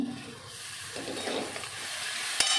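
Tomato paste hitting hot oil in a frying pan for a bhindi dish gives a steady soft sizzle with stirring noises, swelling slightly around the middle and ending with a sharp click.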